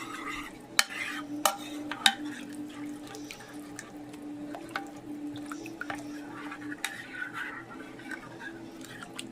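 A spoon stirs Parmesan and black pepper into a dish, giving soft, intermittent scraping and a few sharp clicks against the pot over a low hum, close and fairly quiet, with no talk.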